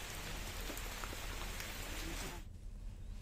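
Steady heavy rain falls in a dense, constant hiss during continuous downpours that have rivers and streams overflowing in Bilaspur district, easing abruptly near the end.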